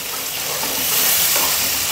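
Ground tomato, ginger and garlic masala frying in oil for a cauliflower curry with cashews and sesame, a dense, steady close sizzle with faint stirring.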